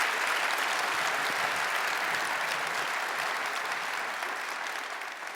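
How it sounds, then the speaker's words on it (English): A conference audience at Atlassian Summit 2019 breaks into sustained, dense applause that stays full and loud throughout, easing slightly only at the very end, with no voices rising above it. "So huge round of applause"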